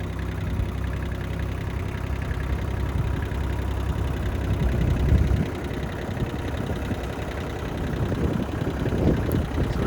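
A tractor engine idles and runs close by in a steady mid-to-low rumble, swelling slightly now and then, with no voices present.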